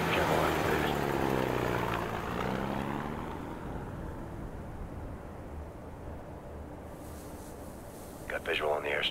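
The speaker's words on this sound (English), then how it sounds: "Looks like the plane's prepping for takeoff." A propeller airplane's engine drones on an airstrip in the Ghost Recon Future Soldier shooter, preparing for takeoff. It holds a steady, fairly loud hum that fades slightly, with a brief radio crackle near the end.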